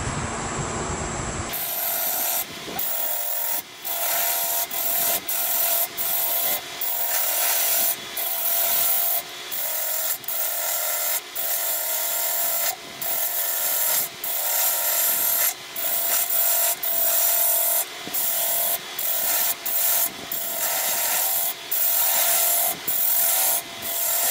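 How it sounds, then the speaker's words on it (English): A 1/2 inch spindle gouge shaves maple wood spinning on a lathe, giving a steady close rasping scrape broken by short regular pauses as the tool lifts and re-engages. "So I'm going to use a 1/2 inch, which is a 12 millimeter"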